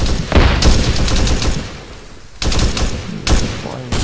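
Wombat recoilless gun in the video game Squad firing high-explosive rounds: a few heavy, sharp booms land at irregular intervals over a continuous rumble of battlefield gunfire.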